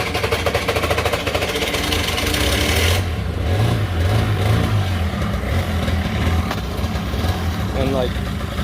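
A Honda Spree scooter engine fitted with a big bore kit runs nearby with a rapid, rattling putter that rises and falls slightly, with talking over it.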